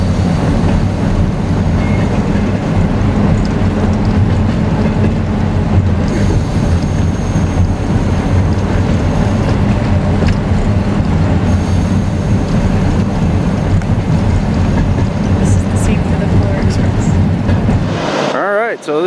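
A train rolls along Colorado rails with a loud, steady rumble and clatter that holds for nearly the whole span, cutting off abruptly near the end.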